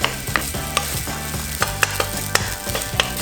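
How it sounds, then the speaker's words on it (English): Rice and scrambled egg stir-fried in pork fat in a pan for kimchi fried rice, with a steady sizzle under repeated sharp scrapes and clacks of a utensil against the pan, close and rhythmic. "Sort of cut up the egg into the rice."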